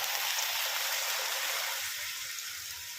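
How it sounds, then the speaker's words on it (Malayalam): Steady broadband splashing of water being poured into a cooking pan of raw plantain, loud at first and easing slightly toward the end, with no talking. "കാ വേകുന്നതിന് ആവശ്യമായ വെള്ളം കൂടി നമുക്ക് ഒഴിച്ചു കൊടുക്കാം"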